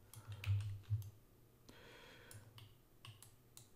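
A few sharp key presses on a computer keyboard, isolated clicks scattered across a quiet room, close to the mic with no talking.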